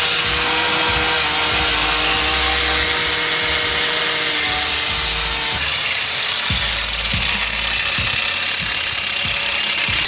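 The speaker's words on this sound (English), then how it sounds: "so they're over here grinding away." A power grinder cuts at the steel transmission tunnel inside a 2020 Mustang GT being prepped for Pro Am Formula Drift, a loud, unbroken grinding whine whose tone shifts midway as the tool bites harder.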